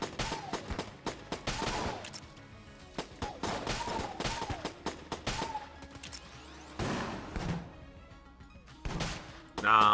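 Pulse cannon fire in the game Enter the Gungeon comes as rapid bursts of sharp, loud shots, some spaced and some in quick volleys, mixed with game effects and a final louder blast.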